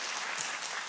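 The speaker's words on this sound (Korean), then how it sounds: "박수 한번 쳐주시겠어요?" Brief burst of audience applause in a church summer-night sermon gathering, a dense steady wash of clapping with no voices, lasting under a second.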